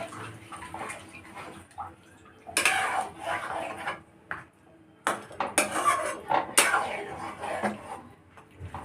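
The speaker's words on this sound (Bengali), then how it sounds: "এবার আমি একটু ভালো করে নেড়ে চেড়ে দেব।" A spoon scraping and clinking against a pot while prawn chicken biryani is stirred, in uneven bursts of metallic knocks with quiet gaps between, under a person talking.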